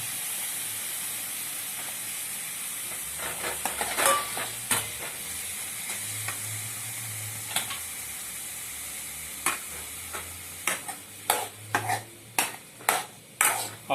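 Steady hiss and sizzle of red pumpkin frying in hot oil tempered with cumin, fenugreek and mustard seeds, with scraping stirs that grow into a quick run of clatters near the end.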